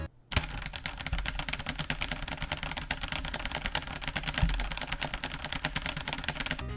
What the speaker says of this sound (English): spam away your abilities and mash that keyboard until you break it